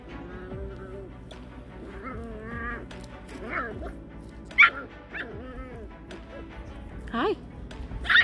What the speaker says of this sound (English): we have a bunch of puppies over here making a racket